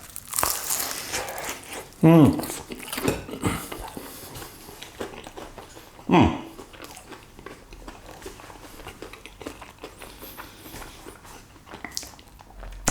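Someone bites into a crispy homemade onion bhaji, with a couple of loud, close crunches amid rustling and chewing, and a person talks through the clip.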